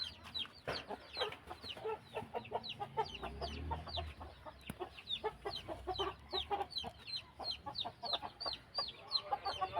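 Hens clucking in a steady stream of short, repeated calls, several birds close by with overlapping chatter throughout.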